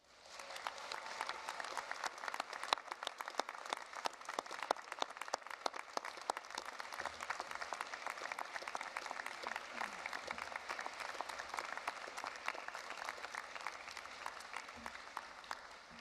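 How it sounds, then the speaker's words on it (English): Graduates at a graduation ceremony give a long round of applause to their family and friends, a steady clatter of many hands heard from the back of a large room, fairly faint, with sharp individual claps popping out. "please thank your family and friends with a rousing, heartfelt round of applause"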